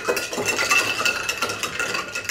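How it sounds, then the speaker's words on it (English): A spoon stirs a Moscow Mule or Dark and Stormy cocktail mixed with a carbonated beverage, producing a continuous run of light metallic clinks and swirls against the glass, close and fairly quiet, with no voices. "Next step, number 6, is to stir."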